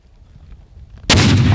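Hand grenade detonating at a military training range: after a quiet stretch, one sudden loud broadband explosion booms in and rolls on with a heavy low rumble, no talk over it.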